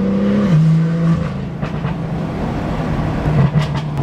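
A tuned BMW M2 exhaust drones and revs at close range, its pitch stepping down as it eases off, followed by a scatter of sharp crackles and pops from the tailpipe.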